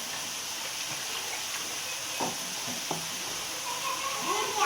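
Flour roasting in ghee over low heat sizzles softly and steadily while a spoon stirs and scrapes the pan in a few distinct strokes.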